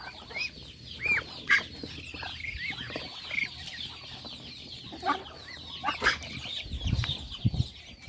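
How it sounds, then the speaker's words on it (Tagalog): Ducks clucking and peeping in a small brooder, with scattered quacks and soft rustling and flapping throughout, a few louder calls standing out. "Ito yung pinaka brooder natin sa mga bibe."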